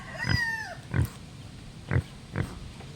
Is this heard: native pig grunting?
yes